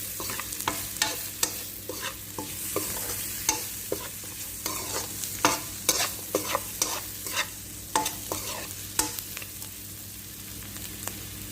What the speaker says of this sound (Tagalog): Tapos po, halo-haloin po natin ulit ng ganito ha